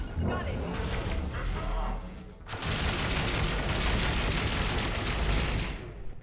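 Sustained gunfire aimed at a turret in the shooter game Mass Effect 3, dense continuous bursts that fill the whole stretch after a brief lull, loud and close.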